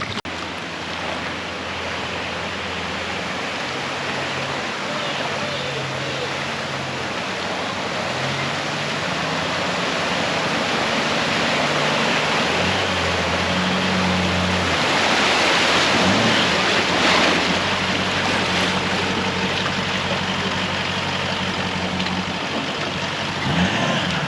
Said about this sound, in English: Made the river flow again.